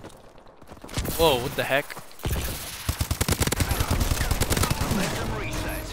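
Sniper rifle and automatic gunfire in the futuristic shooter Call of Duty: Advanced Warfare, loud and close, with a sharp early shot followed by rapid bursts of rattling fire, while a player exclaims over it.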